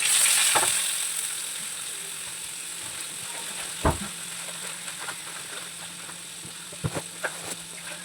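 Tomato paste with black cumin, green chili and ginger frying in oil for a pabda fish curry, a steady close hiss of sizzling with a few sharp clicks and taps, no voices.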